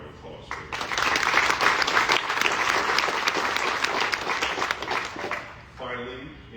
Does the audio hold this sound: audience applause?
yes